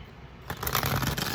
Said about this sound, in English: So we're going to go ahead and start shuffling.